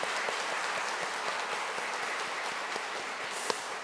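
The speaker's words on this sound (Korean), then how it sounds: "우리 박수 한번 하시고" A church congregation claps for the choir during a Sunday service, a steady, moderate patter of many hands filling the room, with one sharper clap standing out near the end.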